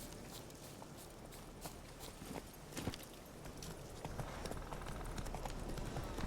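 Hooves of Geralt's horse Roach clip-clop in The Witcher 3 amid busy game ambience, a steady walking rhythm of mid-loud hoofbeats over a dense backdrop that swells slightly toward the end.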